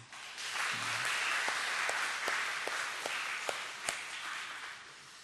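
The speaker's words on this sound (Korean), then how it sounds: "우리 박수 한 번만 해드릴까요?" Congregational applause during a Sunday church service, a broad sustained wash of many hands clapping for about five seconds, fairly distant and even, with a few sharper claps standing out.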